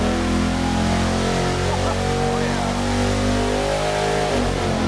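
A 6.0L LS iron-block V8 roars under load on a dyno, a loud, dense, sustained engine drone with shifting harmonics filling the whole stretch without a break.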